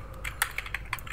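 A short burst of typing code on a computer keyboard, several crisp close key clicks in quick succession, one slightly louder tap among them, no talking.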